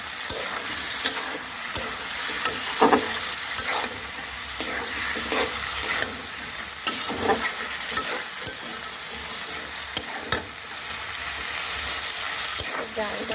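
Meat sizzles loudly in a pan while a spatula stirs it repeatedly, giving a steady frying hiss punctuated by scraping knocks, with occasional faint voices in the background.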